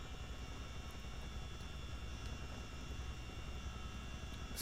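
A CH47D Chinook heavy-lift helicopter in Microsoft Flight Simulator drones steadily, a dense, constant engine and rotor hum at moderate level with no speech.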